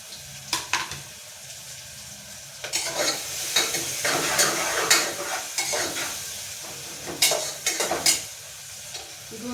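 Cumin seeds fry in hot oil for a curry to go with puris, a bright crackling sizzle broken by repeated scraping stirs of a spoon against the pan, close and loud, with no talking.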